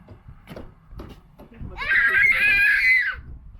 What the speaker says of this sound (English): What's with the screaming